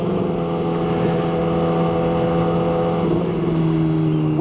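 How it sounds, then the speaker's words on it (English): A motorcycle ridden with no exhaust muffler drones loud and steady at constant revs, close up, with a small shift in pitch toward the end. The harsh, unmuffled roar carries on with no talk. "it's so loud that I feel like I have to go to the dentist. So riding with no muffler"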